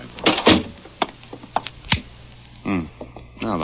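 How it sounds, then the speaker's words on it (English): A door shuts with a sharp wooden thud in an old building, followed by a few lighter clicks and knocks. People speak before and after the sound. "Well, close the door."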